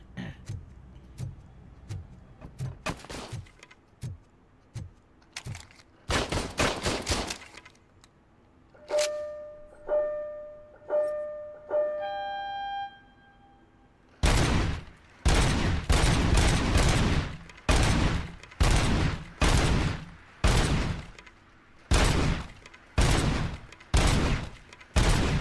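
Gunfire at a firing range in the RoboCop video game: bursts of sharp, loud shots, with several rapid volleys early, a pause filled by beeping electronic tones, then a long run of heavy, evenly spaced shots.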